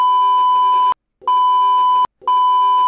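Three long censor beeps sound back to back, each a loud, pure electronic tone broken by brief silent gaps, bleeping out bad words in a row.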